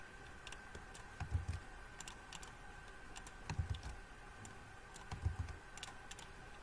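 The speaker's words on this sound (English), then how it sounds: "I could just type them directly here" Keys clatter on a computer keyboard in short, irregular bursts of clicks, quiet and close, over a faint steady hum.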